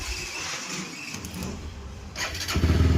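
A TVS Apache RTR 200 4V motorcycle engine cranks and fires near the end, then settles into a loud, steady, close idle after a stretch of quieter background noise.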